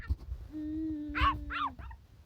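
A dog gives a drawn-out whine followed by two or three short, yelping barks, faint and somewhat distant indoors.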